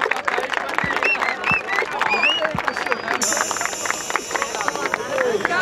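Crowd at a Batalha da Aldeia rap battle in Barueri, São Paulo, clapping steadily in a dense wash of applause, with voices and shouts mixed in throughout.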